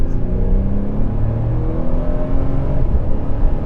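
A tuned 2022 Toyota Tundra pickup on 37-inch tires and 18-inch wheels accelerates hard, its engine roaring loud and close with rising, revving tones and a continuous deep rumble.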